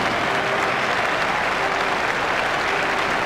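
Cricket stadium crowd applauding Klusener's century, a dense, steady wash of clapping heard at a distance with no voices over it.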